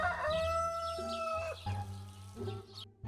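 A cartoon hen clucks and squawks in a run of close, loud, tonal calls with short pauses between them, heard alone without talking.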